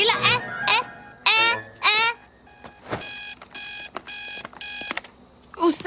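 A shrill, annoying alarm clock rings in a cartoon, four evenly spaced bursts of bright electronic beeping following a few lines of animated dialogue.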